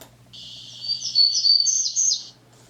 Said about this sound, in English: here's the song of a Townsend's warbler